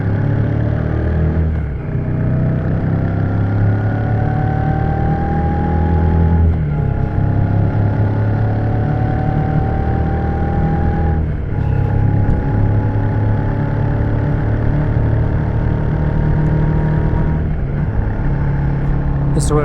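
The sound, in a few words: Shotgun 650 motorcycle riding at 100 km/h with wind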